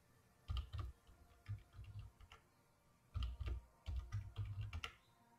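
Bursts of typing on a computer keyboard, several quick clusters of key clicks with short pauses between, close and fairly quiet.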